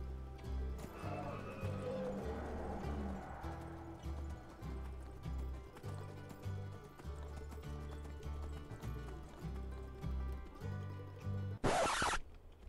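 Horse hooves in the video game Skyrim clop in a steady, close rhythm over low game music, ending with a sharp burst that sounds like a whinny.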